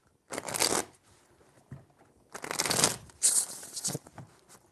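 Tarot cards being shuffled in two or three bursts of riffling, close and fairly quiet, with short pauses between them and no talking.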